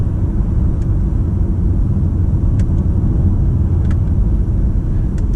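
A BMW M5 Competition LCI cruises gently like an ordinary 5 Series, its cabin filled with a steady low road and engine rumble, punctuated by a few faint clicks.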